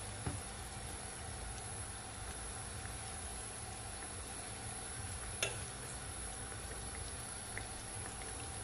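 Chicken thighs fry skin side down in a hot pan with honey jerk seasoning, giving a steady, moderate sizzle throughout with a couple of brief sharp clicks and no talking.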